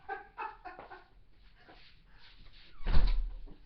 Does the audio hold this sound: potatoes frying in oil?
no